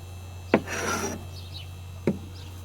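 A hand scraper drawn across a vintage wooden desk to lift old finish, giving one short rasping stroke between two sharp taps, faint and close in a quiet room.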